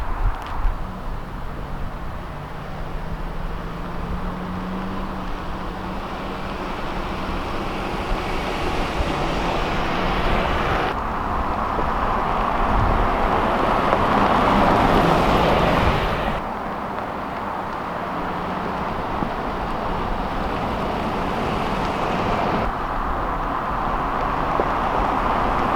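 A vehicle drives around an abandoned racetrack, its engine a steady broadband drone with wind and road rumble, rising and falling in loudness over a long stretch, continuous and close with no talking.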